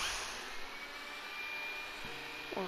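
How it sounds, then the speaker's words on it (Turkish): Steady broadband whirring of a vacuum cleaner runs through the background at moderate level, with a low hum joining near the end and no speech. "Süpürge sesi geliyor."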